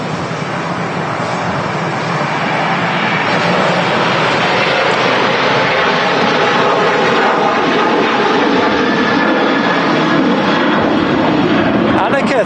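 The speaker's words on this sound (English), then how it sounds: "737-800 rolling down the runway right now" Ryanair Boeing 737-800 rolling down the runway on its takeoff run at Manchester Airport, a loud, steady broadband engine roar lasting throughout, with a voice talking over it.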